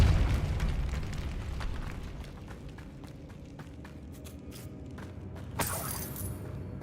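The Depulso force spell being cast in the Hogwarts Legacy video game, a low rumbling blast that fades into scattered clicks and debris, with a sharp crack near the end.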